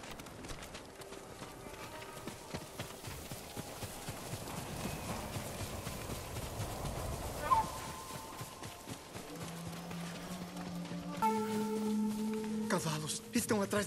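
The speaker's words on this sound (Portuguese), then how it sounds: "Cavalos estão atrás da gente." Horses gallop in the video game Ghost of Tsushima, a busy run of hoofbeats in the thick of battle noise and voices, building through the middle and fading as tonal game sounds and speech take over near the end.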